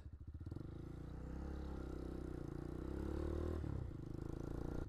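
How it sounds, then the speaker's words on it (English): Motorcycle engine rumbling nearby, a steady low throbbing drone that swells and holds loud before easing slightly. "Other motorcycles!"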